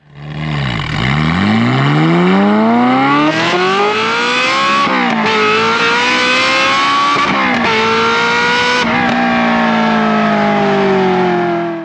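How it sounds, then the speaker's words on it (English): A Ferrari F355 Challenge race car engine revs loud and close, rising and falling in pitch through repeated sweeps with brief dips between pulls, running steadily for about twelve seconds with no talking. "this car sounded good, but it didn't make us buckle in the knees like it should have."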